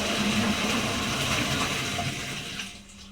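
Water rushes steadily into a metal water pot, loud and close, then tapers off and stops near the end.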